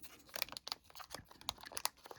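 Quiet crinkling and snipping as scissors cut open the plastic wrapping of a Pokémon Twilight Masquerade card pack, small irregular cuts and rustles close up with no talking.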